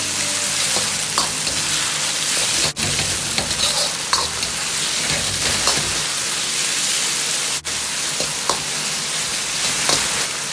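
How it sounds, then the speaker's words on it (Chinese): Pork slices with ginger, scallion and garlic stir-fry in a hot wok, a loud, dense sizzle broken by the scrape and clank of tossing and two brief dips, with no voices. "姜葱蒜炒出香味，炒至肉片表面稍微发白，倒入配菜，快速的翻炒几下，翻炒均匀"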